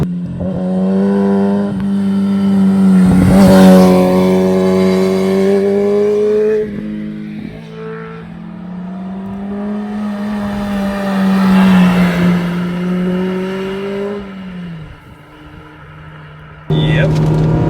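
A Honda Civic Type R FD2's naturally aspirated engine revs hard through VTEC on a mountain touge road, heard from inside the car as several loud, rising pulls with brief dips between them, ending on a sharp jump.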